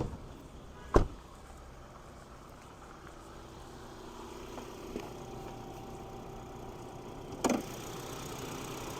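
A 2023 Hyundai Santa Fe Calligraphy's 2.5-liter turbocharged four-cylinder idles with the hood open, giving a quiet, steady low hum broken by two sharp clicks.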